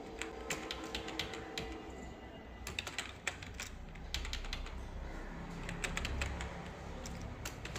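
Steady typing on a computer keyboard while entering text into a Word document, with quick, irregular close-up key clicks running continuously and no voices over them.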